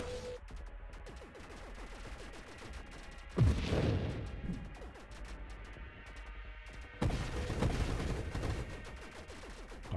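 Gunfire from the space shooter game Nova Drift, a dense rapid stream of synthetic shots with two louder booming bursts, continuous and close with no voices.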